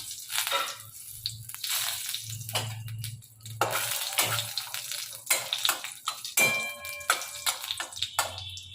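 Dry red chilli and curry leaves sizzling in hot oil for a tempering, a crackling, hissing fry with sputtering pops rising and falling, close and fairly loud.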